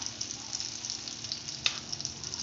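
Stuffed bitter gourd (karela) frying in a pan gives a steady, close sizzle with crackling spatters and one sharp clack partway through.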